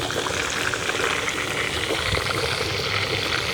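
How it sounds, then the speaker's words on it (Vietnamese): Pork belly fries over a charcoal stove with a constant crackling sizzle, fairly quiet and even throughout, with no talking. "mình chiên bằng cái bếp than này là mình phải biết cách chiên thì nó mới không có bị cháy cái thịt"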